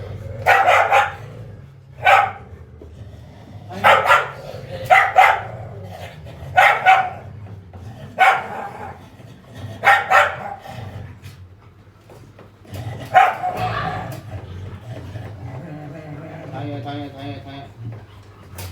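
Dogs at a place housing hundreds of them bark in loud, repeated bursts at a roughly steady rhythm, with a few yips and whimpers near the end and a voice speaking underneath.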